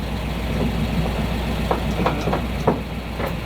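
A truck engine idles in 5th gear to drive a pump, a steady loud low rumble with faint periodic knocks.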